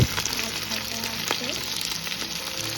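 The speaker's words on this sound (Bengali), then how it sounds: "প্যানে আমি অর্গ্যানিক কোকোনাট অয়েল গরম করে মাছগুলোকে একটু লাল লাল করে ভেজে নেব" Pompano fish fries in hot organic coconut oil with a close, steady sizzle and scattered crackling pops over a few seconds, with no talk.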